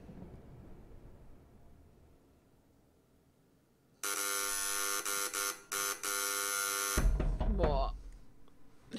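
An alarm clock in the video game Virginia gives off a harsh, loud electric buzz in long bursts with brief gaps, breaking in after a few seconds of quiet and then cutting off into a low rumble.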